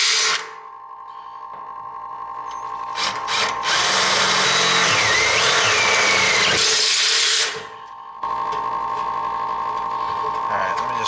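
A power drill with a worn chuck whirs loudly in a sustained run lasting several seconds while cutting open a diesel fuel tank on a trawler, preceded and followed by a steady mechanical hum and brief clicks nearby.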